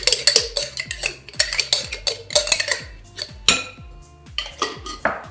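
Salad leaves with dressing tossed in a bowl, utensils clinking and scraping against the bowl in quick repeated knocks over soft background music.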